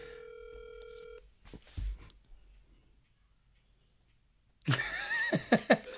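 A phone call over speakerphone: a steady dial tone with stacked tones gives way to brief rustles, then a burst of bright, crackly phone audio with sharp clicks near the end.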